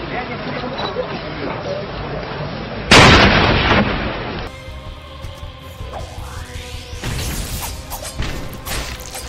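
Grenade blasts in the side-scrolling action game Salt and Sanctuary, a sharp loud burst erupting after busy combat noise, followed by lingering debris and mechanical clatter, with a person talking over parts of it.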